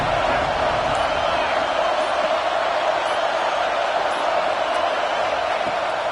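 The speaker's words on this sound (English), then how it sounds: "Here comes the noise from this big crowd in Happy Valley on 3rd down." A big college football stadium crowd in Happy Valley roaring loudly on third down, a dense sustained wall of crowd noise that holds steady throughout.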